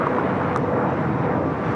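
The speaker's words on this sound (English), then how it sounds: "Phenom 300 taking off to Thermal FlexJet 358" An Embraer Phenom 300 jet takes off, a loud, steady broadband roar with a dense low rumble, heard from outside and lasting under two seconds without a break.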